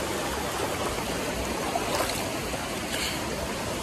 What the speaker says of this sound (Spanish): Vamos a meternos al río aquí.